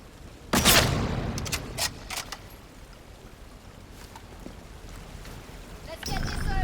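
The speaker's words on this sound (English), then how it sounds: "I'm shooting." Gunfire in the video game Atomfall: a loud, dense burst of shots followed by a few sharper scattered cracks, then a steady windy background.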